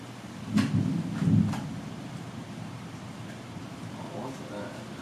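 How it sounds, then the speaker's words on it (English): Two low, muffled rumbles roll through in quick succession early on, like distant thunder, then fade into a steady background hiss. "It's thunder."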